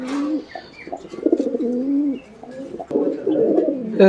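Fancy pigeons at a farm coo up close in repeated throaty, rolling calls that run almost continuously, with a few soft chirps mixed in.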